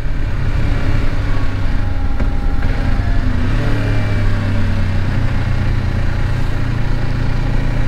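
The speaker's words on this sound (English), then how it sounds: "tried to blip the throttle." A 2024 Kawasaki Ninja 500 KRT motorcycle engine runs close by, with a throttle blip that makes the revs rise and fall. A steady engine drone continues throughout, with no talk.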